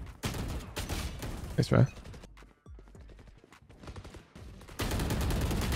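Sniper rifle fire in the shooter game Valorant: a few sharp shots scattered among other weapon sounds, with a brief spoken remark in between.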